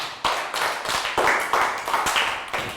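Classroom applause in a primary school lesson: a handful of children clapping unevenly in quick, overlapping bursts, close and fairly loud, alone without talk.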